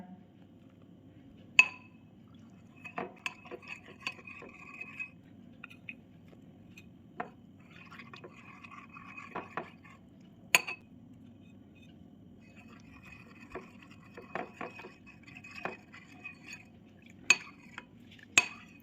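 Cornflour is stirred a little at a time into a beetroot halwa mixture, heard as scattered metallic clinks and scrapes of a spoon against a bowl, some sharp and close, over a quiet low background hum.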